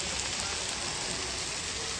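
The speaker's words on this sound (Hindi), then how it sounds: "बादल बरसात" Rain pours down steadily in Udaipur, a dense continuous patter and hiss at constant loudness without talk.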